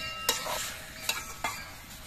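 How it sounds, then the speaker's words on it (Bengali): Cabbage leaves are stirred with salt and a little water in a frying pan, giving three distinct scraping strokes over a soft, steady sizzle, close up and with no talking. "এবার নেড়ে চেড়ে মিশিয়ে নেব নুনটা, তাহলে খুব ভালোভাবে মিশবে।"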